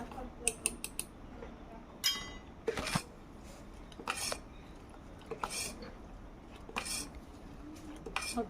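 A spoon beating yogurt in a bowl, giving quick clinking taps and scraping strokes in short irregular bursts, close and fairly quiet.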